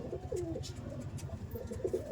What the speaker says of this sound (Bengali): এবার এখানে কিছু পায়রা আছে